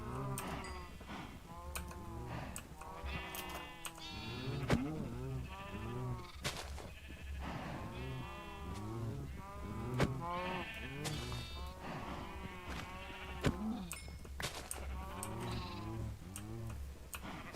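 Sheep bleat continuously in a dense flock, many overlapping calls near and far with a steady rhythmic ticking underneath, no talk.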